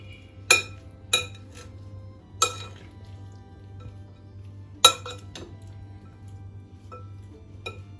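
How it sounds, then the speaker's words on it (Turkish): Broccoli salad being tossed with lemon juice on a wide plate, giving a few sharp utensil clinks against the dish at uneven intervals over a steady low hum, with no talking. "Ve şimdi salatayı güzelce karıştırıyorum."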